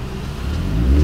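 A car engine revs hard up close, a loud, rough roar that climbs and grows louder toward the end of a brief burst with no talking.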